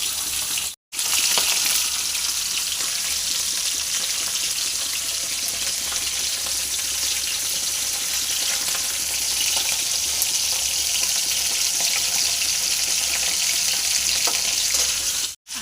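Khaira fish frying in a pan give a loud, dense, steady sizzle that runs unbroken for the whole stretch, with only brief gaps at the very start and end.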